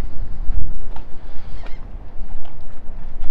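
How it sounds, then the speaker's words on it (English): Strong gusty wind buffets the microphone, rumbling and roaring unevenly throughout aboard a 2004 Mainship 400 boat, with a faint hiss of water or boat noise beneath. "A little bit windy today."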